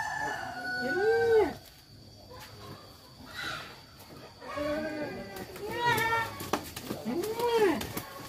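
Several crowing calls from a free-range village chicken, loud and close, ringing out at intervals amid background farmyard noise, with people talking quietly between the calls.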